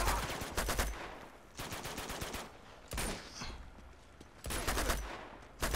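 Bursts of automatic gunfire in the video game Uncharted: The Nathan Drake Collection, several rapid volleys separated by short pauses, fairly quiet.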